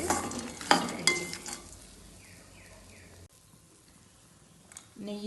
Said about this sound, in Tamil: நிலக்கடலை, கஜு, பிளம்ஸ் எல்லாத்தையும் வந்து நெய்யில் நல்லா வறுத்து